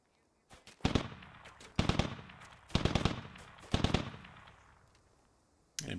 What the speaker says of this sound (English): MTLB is putting some shots into that 2-story